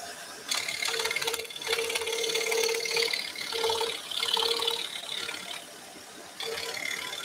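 A scroll saw cuts through wood for a Christmas nativity piece, giving a close, rapid mechanical chattering buzz that surges and dips as the blade works, with brief pauses between passes.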